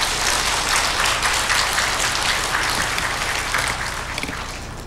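A church congregation applauding steadily, a dense wash of many hands clapping at once that holds for several seconds and tapers slightly at the end.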